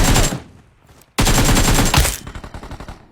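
Rapid automatic gunfire from a PUBG Mobile match, two loud bursts of dense shots separated by a brief gap, the second longer and trailing off into quieter scattered shots.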